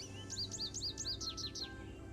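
An American goldfinch call plays in the Nancy Drew game Ghost Dogs of Moon Lake: a quick run of about eight bright, rising-falling chirps repeated in steady rhythm, clear but soft over a low background hum.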